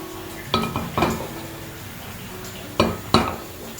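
A metal pan set down on the stove while cooking a Kerala-style beef pepper roast, with four distinct clanks and knocks in two pairs over a steady kitchen hum.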